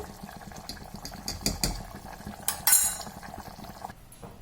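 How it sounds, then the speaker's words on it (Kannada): Cooked, softened tomatoes in a pot being mashed with a wooden masher, heard as irregular soft thuds and wet squelches with a few clinks against the pot, close and fairly quiet. "ಮಸಿಯೋ ಕೋಲಲ್ಲಿ ಈ ಥರ ಮಸ್ಕೋಬೇಕು"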